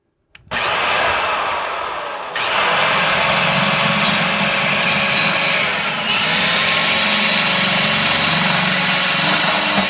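A power drill starts abruptly and runs continuously, drilling at an angle for a kayak bait tank build, a loud high whine that deepens slightly as it bites into material, with no talking.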